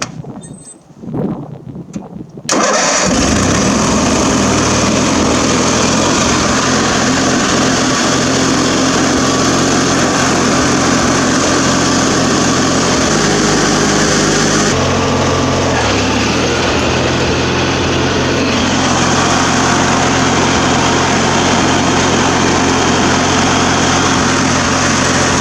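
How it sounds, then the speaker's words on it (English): A Craftsman riding lawn mower engine cranks briefly, then catches and runs loud and steady close by for the rest of the stretch, its pitch dipping slightly midway before settling again. "So now I'm gonna start in third, and I'm gonna push the clutch in as little as I have to keep the belt on better."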